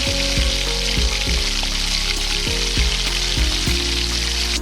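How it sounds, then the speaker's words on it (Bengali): Boiled potatoes fry in a pan as part of preparing beef biryani, giving a loud, steady sizzle that runs throughout with no talking. "এবার আমি একটা প্যান বসিয়ে আলুগুলো ভেজে নেব"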